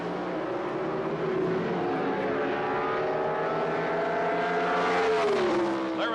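1978 NHRA Gatornationals Pro Stock drag cars roar off the starting line together, a loud sustained engine blare with rising pitch as they accelerate, filling the whole stretch without pause.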